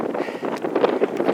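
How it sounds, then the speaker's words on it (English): Strong outdoor wind buffets the microphone in gusty, rumbling waves across the whole brief moment, loud and close with no clear pause. "This wind is terrible."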